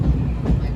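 The Disneyland Railroad train rumbles along its tracks in a steady, loud, low roll heard from on board, with no clear voices.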